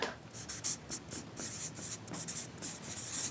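Pen writing on a paper chart, quiet close scratching strokes in short irregular bursts with brief pauses between them, no talking.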